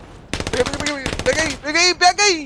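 Video game automatic gunfire rattles in two quick, close bursts while excited voices shout over the shooting.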